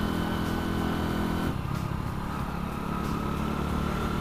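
A Honda Win 100 motorcycle accelerates on a rural road, its engine droning steadily with a slight shift in tone midway, heard alone without talk.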